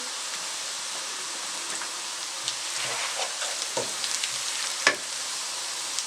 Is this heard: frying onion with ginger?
yes